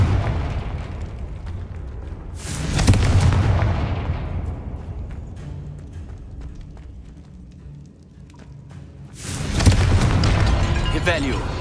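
Confringo spell blasts in the Hogwarts Legacy video game land as two heavy, booming explosions several seconds apart, loud and close, each decaying into a rumbling tail, with speech nearby.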